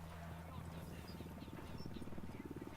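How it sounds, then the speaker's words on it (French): Helicopter rotors thump steadily in the video game Ghost Recon Wildlands, a low rhythmic chopping with engine drone that fills the background while someone talks over it. "Là j'entends des hélicoptères de la Unidad."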